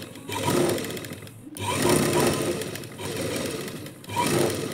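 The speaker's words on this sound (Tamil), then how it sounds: "நெக்லைனில் ஒரு தையல் போட்டுக்கோங்க" A sewing machine stitches around the lining neckline of a blouse in a few close, steady bursts of whirring with brief stops between runs.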